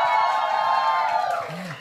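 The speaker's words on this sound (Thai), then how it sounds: "ขอเสียงกรี๊ดดังๆปรบมือต้อนรับนะคะนักแสดงจาก Be My The Series ค่ะ" Crowd at a live fan event for actors from a Thai series, screaming and cheering in a sustained high-pitched roar that fades slightly toward the end, with no distinct voice over it.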